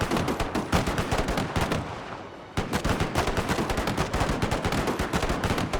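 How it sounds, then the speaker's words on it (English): A mitrailleuse machine gun in a Total War mod battle fires rapid, loud crackling bursts, pausing briefly before the dense stream of shots resumes. "I'm gonna go ahead and take personal control of this mitrailleuse machine gun"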